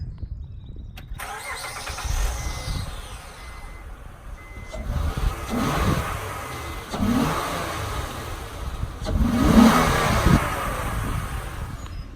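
A 2007 Honda Ridgeline 4x4 truck engine idles close by with a steady low rumble, then revs up in several swells, the loudest near the end.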